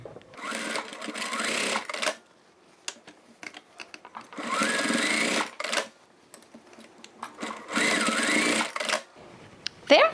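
A domestic sewing machine stitches the lining seam of a fabric toiletry bag, running in three steady whirring bursts of a couple of seconds each, separated by quiet pauses, close and moderately loud.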